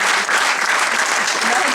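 An audience at a gala applauds with steady, dense clapping that stays loud and continuous through the whole moment, with no pauses or swells.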